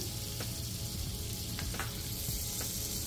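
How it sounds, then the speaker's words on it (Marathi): Bread sizzles steadily in melted butter in a pan, a dense, close crackle with faint pops scattered through it and no voices. "आता आपण पॅन मध्ये बटर टाकून घेणार आहोत आणि नंतर ब्रेड ठेवणार आहोत"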